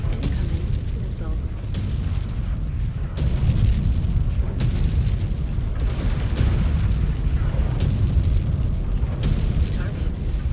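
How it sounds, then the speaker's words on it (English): Missile explosions in the mech combat game Mechwarrior 5: Clans: a steady heavy rumble broken by repeated loud booms and blasts, dense and continuous throughout. "Incoming missile."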